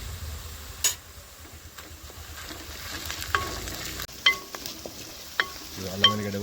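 Ginger garlic paste fries in a pan, a soft, quiet sizzle under scattered sharp clicks and taps of a utensil against the pan. Near the end a brief tonal ring sounds. No one speaks.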